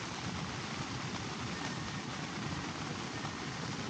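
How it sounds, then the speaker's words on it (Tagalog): Heavy rain pours down on a campsite, a constant dense hiss and patter drumming on surfaces, unbroken and enveloping, with no voices. "Hindi na natin tigil yung ulan."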